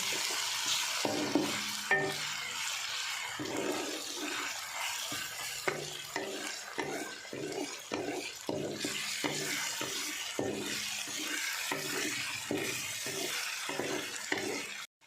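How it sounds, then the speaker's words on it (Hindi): Ginger, garlic and green chili paste frying and being stirred in a pan, with steady close sizzling and repeated rhythmic scrapes and stirring strokes throughout. "अदरक लहसुन फ्राई हो चुका है"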